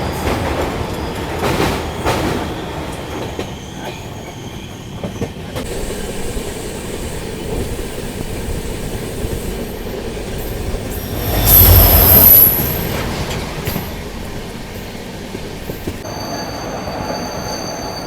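A MEMU train passes through Purulia Junction station in West Bengal in the evening, a steady loud rumble of wheels and carriages with a sharp wheel squeal rising briefly in the middle before the run continues.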